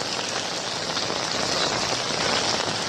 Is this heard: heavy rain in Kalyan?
yes